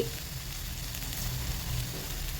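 Curry leaves fried and stirred in a pan give a steady, even sizzle with a low rumble underneath, continuous and close, with no talking.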